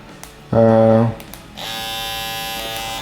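A Bronc V12 Max tattoo machine switched on, giving a loud steady electric buzz that cuts off after half a second, then a softer, higher whirring hum that runs to the end.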